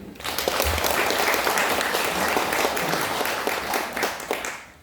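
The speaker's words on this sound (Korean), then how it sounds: "다 같이 박수하겠습니다" Congregation applause fills a church sanctuary during a retirement and ordination service for deaconesses, steady dense clapping from many hands sustained throughout before tapering slightly at the end.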